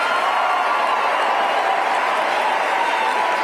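A large audience at a political event rising to its feet, with a dense, steady roar of applause and cheering that stays loud and unbroken throughout.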